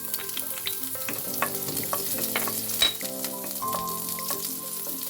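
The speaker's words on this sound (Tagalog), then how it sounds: "Ayan, mainit na yung ating mantika. Pwede na natin ilagay ang bawang." Garlic fried in hot oil for pancit canton crackles steadily up close, with scattered stirring clicks over faint tonal background sounds.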